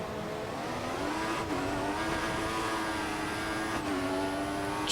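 An F1 race car in the video game F1 2014 at the Hungarian Grand Prix, engine whine climbing steadily in pitch while accelerating out of a corner, with brief dips at gear shifts, loud and close with no talking.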